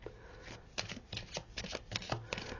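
Tarot cards shuffled and drawn by hand, with a close run of papery riffles and snapping flicks in uneven bursts, with faint speech in the background.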